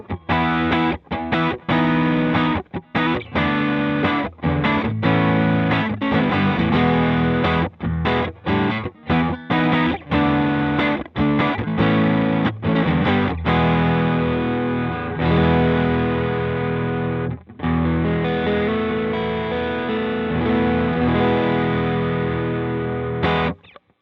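Electric guitar through a Vintage Overdrive pedal on the neck pickup plays a run of choppy chords and notes, then lets a sustained chord ring near the end.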